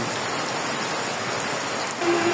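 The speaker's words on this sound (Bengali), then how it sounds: "খুবই বৃষ্টি হচ্ছে অনেক বৃষ্টি" Heavy rain pours down steadily in a dense, continuous wash of close hiss that stays loud throughout, swelling slightly near the end.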